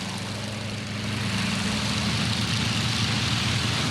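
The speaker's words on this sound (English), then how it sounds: "The Yak-52 is a popular two-seat aerobatic aircraft, powered by a 360 horsepower radial engine." A Yak-52 two-seat aerobatic aircraft with a 360 horsepower radial engine drones steadily and loudly, a continuous low rumble that grows slightly stronger after the first second.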